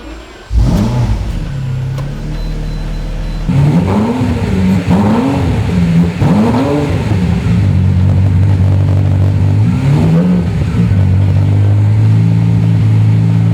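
A loud 2003 Lamborghini engine revs repeatedly, rising and falling in pitch with each throttle blip before settling into a steady, deep idle.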